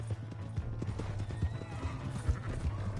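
Horse hooves clip-clop in Red Dead Redemption 2, a quick uneven run of thudding steps with a neigh, heard fairly near over a steady game background hum.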